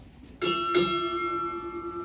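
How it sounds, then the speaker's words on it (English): A ship's bell is struck twice at a US Navy retirement ceremony, two quick clear strokes close together, the tone ringing on and slowly fading in a quiet room. "Strike two bells."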